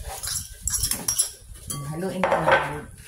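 Potato salad with mayonnaise and boiled egg is mixed in a bowl, giving close clinks and scrapes of a utensil against the dish, with a voice speaking partway through.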